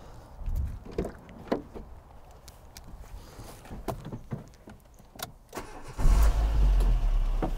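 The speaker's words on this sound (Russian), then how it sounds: "Да, заводим машину." A taxi car's engine cranks and catches near the end, settling into a steady low rumble after scattered clicks and handling noises inside the vehicle.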